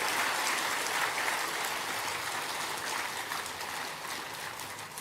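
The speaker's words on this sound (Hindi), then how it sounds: "एक बार सभी एक दूसरे के उत्साहवर्धन में तालियों की गड़गड़ाहट करें।" A crowd applauds at a religious ceremony marking a guru's death anniversary, steady and dense clapping that fills the space for several seconds without letting up.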